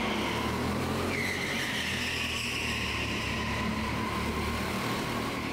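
A go-kart on its final lap of a timed karting session, its small engine droning steadily and fairly loud throughout with a brief tyre squeal, heard alone without talk.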